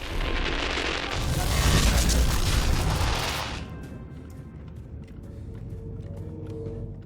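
A charged weapon in Wolfenstein II: The New Colossus unleashes a loud, roaring explosion that swells for a few seconds and then drops off into a low, rumbling tail of game sound.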